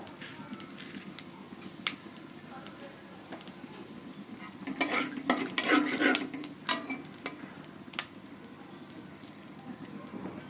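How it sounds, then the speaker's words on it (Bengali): Cumin seeds dropped into the oil left from frying eggs, a soft steady sizzle that swells for a moment with scraping and stirring clatter in a pan, heard up close without talking. "ওই ডিম ভাজার তেলের মধ্যে গোটা কয়েক জিরে দিয়ে দেব"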